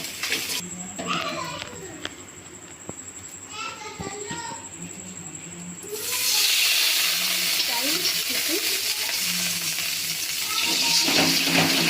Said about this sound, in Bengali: ডিমটা ভেজে নিলে